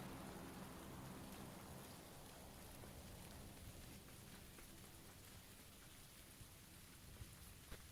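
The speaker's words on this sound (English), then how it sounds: "Very noisy rain." Heavy, noisy rain in the video game PUBG, a steady broadband hiss of downpour filling the whole stretch with no other sounds above it.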